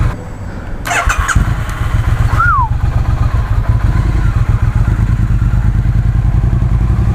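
A 2018 Triumph Tiger 800 XRx motorcycle starts after a month unused: a brief starter whir and clatter, then the engine catches and settles into a steady, loud, close idle that runs on to the end.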